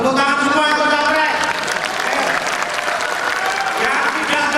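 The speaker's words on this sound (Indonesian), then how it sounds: "tepuk tangan semua untuk capres" An audience at an Indonesian political party presidential convention debate in Surabaya claps loudly and steadily throughout, a dense continuous wash of applause with voices faintly underneath.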